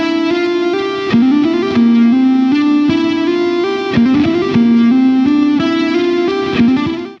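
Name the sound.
guitar legato burst training, slow bar then fast bar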